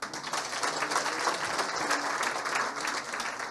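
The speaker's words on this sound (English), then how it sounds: "So let us clap for her." An audience at an International Women's Day event applauds steadily, dense continuous clapping from many hands filling the room at an even level throughout.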